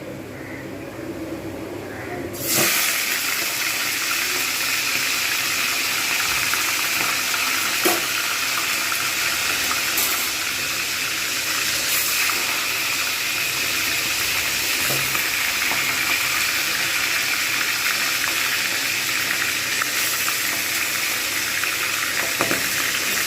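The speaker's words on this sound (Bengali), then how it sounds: "এবার আমি আস্তে আস্তে করে কাঁটাগুলোকে ভেজে নেবো" Bhetki fish bones frying in hot white oil with salt in a kadai, a steady broadband sizzle that starts abruptly after a quiet moment and holds loud and continuous, with occasional faint clinks.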